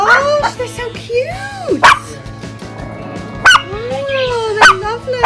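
Chihuahua puppies yip and bark in sharp, high bursts, close by, while people talk excitedly over and between the barks.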